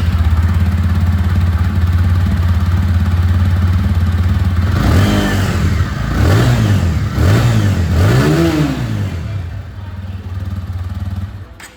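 A TVS Apache RTR 160 2V motorcycle idles with a steady low exhaust thrum, then gets revved several times in rising and falling bursts before settling back down, heard close up with little talk.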